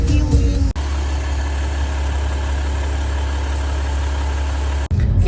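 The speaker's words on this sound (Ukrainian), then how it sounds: "А вон поїхала машина, значить можна заплатити поїхати." A car engine idles steadily at a mountain parking area, a low constant rumble holding close and even for several seconds between two brief cuts, with no talk over it.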